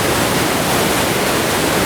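Steady, loud roar of a waterfall on a remote wild river in the taiga, a continuous wash of rushing water with no voices.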